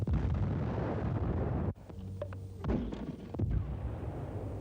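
A wartime mortar round detonating: a heavy rumbling roar that cuts off abruptly, followed by scattered cracks and softer low booms fading into the distance.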